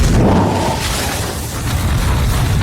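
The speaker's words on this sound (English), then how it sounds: "We have the big kaboom!" A big explosion in the film mother!, a loud, deep boom opening straight away and rolling into a dense rumbling roar that stays heavy for the few seconds.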